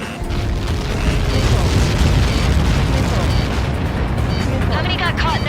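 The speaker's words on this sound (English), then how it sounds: "How many got caught in that explosion?" Massive explosion from Ace Combat 7 projectile strikes, a loud sustained rumbling boom that roars continuously for several seconds with crackling debris layered on top.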